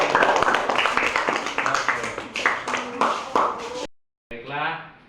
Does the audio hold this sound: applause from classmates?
yes